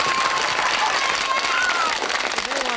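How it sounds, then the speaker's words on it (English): An audience applauds Dennis Law with a steady wash of clapping that runs throughout, mixed with crowd noise and voices. "Round of applause for Dennis Law."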